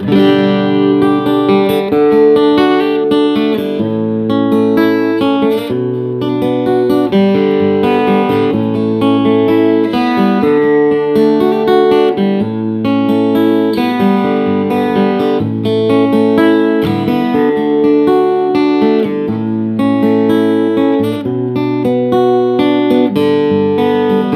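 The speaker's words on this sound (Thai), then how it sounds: "อันนี้คือเสียงที่ผมเล่นผ่านตู้แอมนะครับ" An amplified PD15 acoustic-electric guitar with a solid top plays through an amp continuously, strummed chords and picked notes ringing full and steady at a strong level, with no voices.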